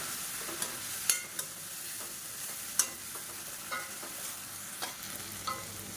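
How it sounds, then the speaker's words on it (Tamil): Ground shallot, garlic and ginger paste sautéing in a pan, a steady soft sizzle broken by intermittent scrapes and taps of a spoon stirring, close and moderately loud. "இஞ்சி பூண்டோட பச்சை வாசனை போகிற அளவுக்கு நல்லா வதக்கி விட்டுக்கலாம்"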